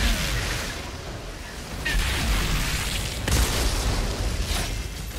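Deep booming blasts and rumbling bursts of gunfire in the PS5 game Outriders, heavy and loud, with a sharp shot standing out in the middle.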